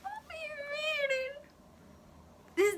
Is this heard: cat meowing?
yes